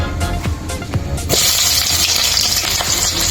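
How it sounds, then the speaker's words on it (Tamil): Cinnamon and cardamom fry in a pan for a Tamil chicken gravy. A few clinks and taps lead into a loud, steady sizzle close by. "பட்டை ரெண்டு ஏலக்காய் இது கொஞ்சம் நல்லா ஃப்ரை ஆகட்டும்"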